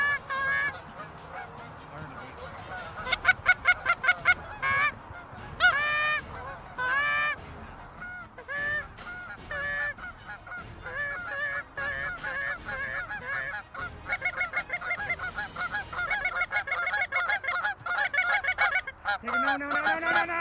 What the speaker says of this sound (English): We've just had raft after raft, flocks averaging between anywhere from 2 birds up to a dozen birds